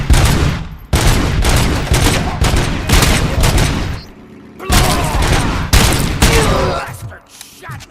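Heavy gunfire in the Robocop Rogue City game, loud and near, with dense bursts and booming shots in several long volleys separated by brief lulls, a voice shouting among them.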